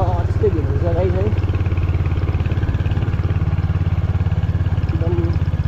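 A new Royal Enfield Hunter 350 motorcycle rides through busy morning traffic in Darjeeling. Its engine thrums in a steady, continuous low rumble, and someone speaks over it at times.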